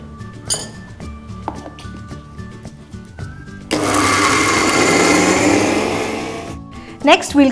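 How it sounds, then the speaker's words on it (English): A blender grinds coconut and vanilla essence into a paste, a loud steady whirring that runs for about three seconds after some clinking of glass and utensils, then stops. "We'll start by grinding the coconut and vanilla essence to a fine paste."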